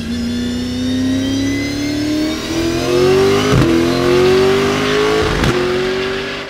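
A custom Lotus Exige fitted with a Mercedes SLS 6.2-litre V8 accelerates hard, its engine note climbing steadily through the gears with two quick shift breaks, loud and close.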